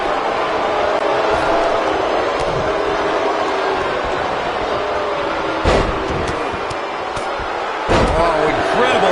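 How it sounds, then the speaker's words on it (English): A wrestler is slammed to the mat with a spinebuster in the WWE 2K19 video game, one heavy thud landing over a loud arena crowd roar while commentators talk, followed by a second impact. "Earth-shattering spine buster"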